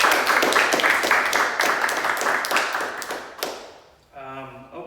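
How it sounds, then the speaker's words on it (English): Audience at an open mic reading gives a poet a round of applause, with close, crisp individual claps over a lively patter that thins out and fades, after which a voice begins speaking. "Another round of applause for Tony Brewer"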